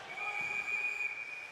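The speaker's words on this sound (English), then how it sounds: "got a whistle here" Referee's whistle at a college ice hockey game between Catholic University and Penn State, a single long steady shrill blast held for over a second, clear above faint arena noise.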